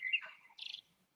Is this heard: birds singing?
yes